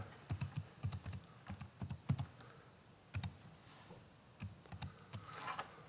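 Keystrokes on a computer keyboard as a Wi-Fi hotspot password is entered while setting up a Kenwood TH-D74 radio with an Openspot3, quiet clicks in short irregular bursts with pauses, no talking.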